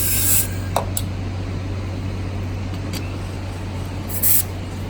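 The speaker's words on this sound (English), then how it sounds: "And make sure we spray it out." Water spray rinsing out pre-hospital decontamination equipment, a steady hiss over a low constant hum, with a few brief sharp clicks near the start and end.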